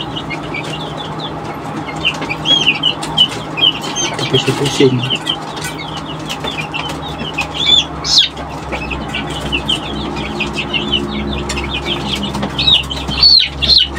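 Brahma-crossed-with-Arab chickens cluck and chirp steadily around a coop, with bursts of wing flapping and a busy mix of close and distant bird calls, while a person talks faintly in the background.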